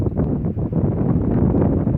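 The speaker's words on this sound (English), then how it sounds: "it's windy again today. You can hear it. Listen to this wind." Strong wind on a gusty day blowing across the microphone and through swaying trees, a loud, continuous low rumble with buffeting pulses and no talking.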